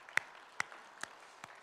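A church congregation claps during a Sunday service: four sharp, evenly spaced claps, fairly faint, with no talk over them.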